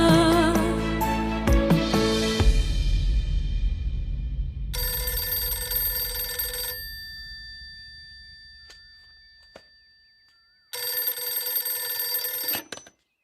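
A telephone rings in two long bursts of electronic trilling separated by a quiet gap, following a loud fading musical chord, with no talk.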